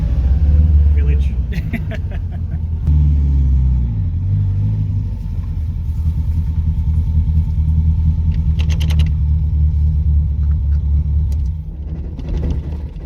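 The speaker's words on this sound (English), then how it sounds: "Cheeky bit of dieseling" Toyota KE70 engine dieseling on after shutoff, a loud, uneven low rumble that shudders and shifts for several seconds, with brief clattery bursts and voices talking over it.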